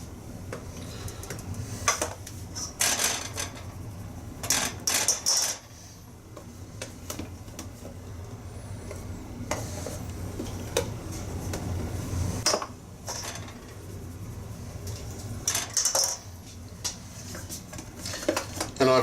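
Four cups of flour are sifted through a metal sieve, making repeated tapping and rattling clinks in bursts over a quiet kitchen background.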